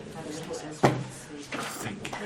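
Someone closes a door indoors with a single sharp thud, caught amid voices talking in the room.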